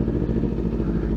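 A Kawasaki Ninja 400 fitted with a Toro Performance T2 exhaust runs close by, a loud low throbbing engine burble with steady pulsing, no speech.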